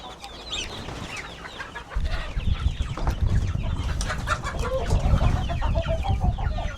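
Chickens and a rooster cluck inside a coop, the calls near and busy, overlapping over a rustling, scuffling background that grows louder partway through.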